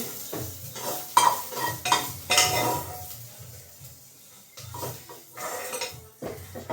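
A utensil scrapes and clinks against a pan in bursts as bitter gourd is stirred, with a soft sizzle of frying underneath.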